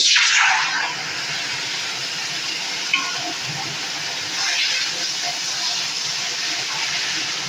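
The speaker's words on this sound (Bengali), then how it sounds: "জলটা আমি পরিমাপ মতো দিয়ে দিলাম" Water poured into a hot pan of ripe mango hisses and sizzles as a steady steamy wash, close and fairly loud, easing slightly but continuing throughout.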